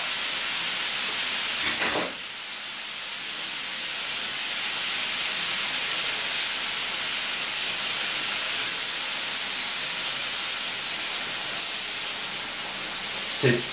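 Anticuchos cook in their sauce on a hot plancha griddle, producing a loud, continuous broadband hiss and sizzle that holds steady throughout, close up, with a brief knock near the start.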